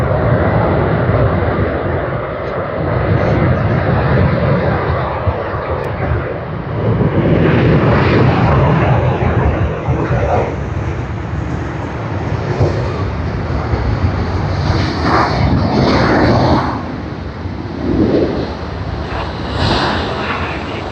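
Emirates jet airliner taxiing at Sydney Airport, a loud, sustained engine roar and whine that swells and eases over about twenty seconds, close and continuous.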